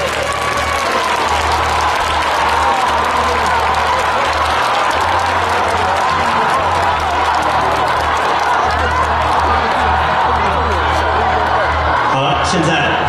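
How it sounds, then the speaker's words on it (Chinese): Audience applause at an SNH48 team reshuffle event on stage, dense and steady clapping from a large crowd throughout, with a host's amplified voice talking over it. "希望大家为他们送上热烈的掌声"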